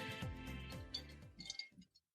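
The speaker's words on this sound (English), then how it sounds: "I'm trying to see if you can hear my ice cubes" Ice cubes knock against a glass of rosé wine in a few small, light clinks, faint and close, over a steady background hum.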